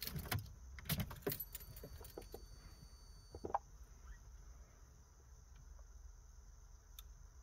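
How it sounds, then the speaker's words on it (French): Keys rattle and click in a car's ignition as it is switched off and back on, quiet and close, followed by a faint electronic tone and soft background hum. "Couper et remettre le contact."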